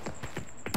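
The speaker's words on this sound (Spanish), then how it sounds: "yo había escuchado otros disparos" Several sharp gunshot cracks sound in the video game Arena Breakout, about four spaced, moderately loud reports in under a second, the last one loudest.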